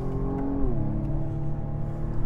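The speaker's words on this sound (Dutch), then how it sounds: "En dan de toerenbegrenzer, die maakt er zo iets voorbij de 6000 toeren alweer een eind aan." A 2019 BMW M135i xDrive engine drones loudly near the rev limiter beyond 6000 rpm, its pitch dropping once as the revs ease and then holding a steady lower hum.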